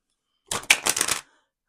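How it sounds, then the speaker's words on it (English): A deck of cards is shuffled once, a quick dense riffle of rapid clicks lasting under a second, close and crisp against silence. "so I'm going to shuffle these cards"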